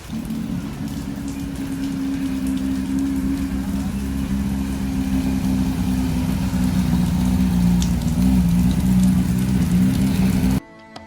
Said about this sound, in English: enjoying the rain shower